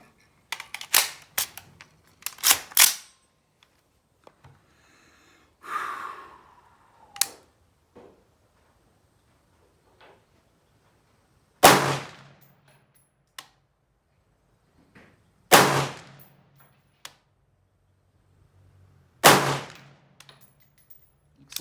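Shots from an AR carbine, a Colt Model 604 build, ring out at an outdoor range during zeroing, sharp loud single reports spaced seconds apart, a quick pair early on, with quiet gaps and faint handling noise between.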